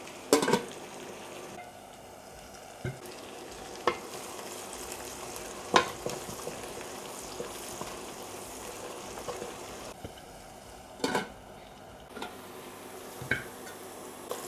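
Vegetables sizzle steadily in a hot pan, with occasional sharp clinks and scrapes of stirring; no talking.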